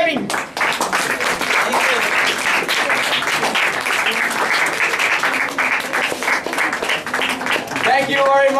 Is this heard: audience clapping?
yes